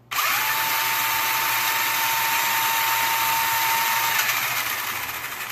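A small 3-volt electric motor run on 12 volts whirs at a steady high pitch, loud and close, starting abruptly and running continuously before easing slightly at the end.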